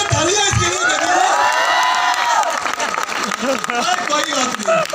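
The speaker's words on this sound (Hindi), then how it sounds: "जोरदार तालियां इसके लिए दे दो" Loud crowd clapping and cheering fills a training session hall, with whoops and shouts rising over dense applause that tapers slightly toward the end while voices carry through.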